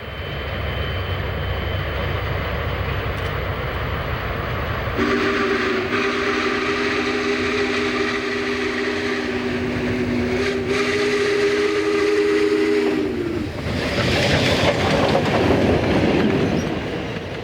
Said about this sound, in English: the Clinchfield 676 heads down the Big Sandy sub on former C&O rails.